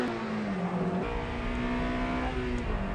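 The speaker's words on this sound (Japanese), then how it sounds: "車はホンダのシビックですね。" A Honda Civic front-wheel-drive car accelerates on a winding circuit, its engine note climbing steadily and shifting pitch, loud and continuous with a brief gear change partway through.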